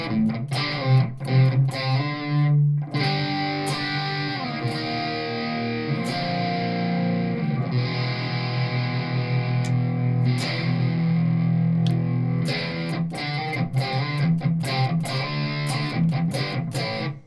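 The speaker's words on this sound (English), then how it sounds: "this Mesa Boogie amp, I mean, this is a modeler that I'm using" A heavily distorted electric guitar through a Mesa Boogie amp modeler plays sustained chords and chugging palm-muted riffs, loud and saturated, with sharp picked attacks and no voices.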